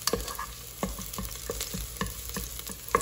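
Garlic sautés in the pot of an electric pressure cooker, a soft sizzle punctuated by regular scraping and tapping of a spoon stirring every half second or so, close and fairly quiet, with no voices.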